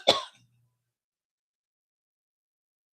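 A single short throat clear, close and fairly loud, over within half a second and followed by silence.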